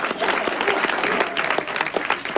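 An audience applauds after a mock auction, with distinct individual claps standing out in a steady spread of clapping close at hand and murmuring voices underneath.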